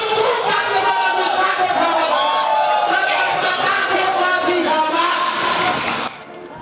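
A Banser protest crowd shouts together in a dense, loud roar of many voices, with chants and cheering overlapping continuously before dropping off at the end.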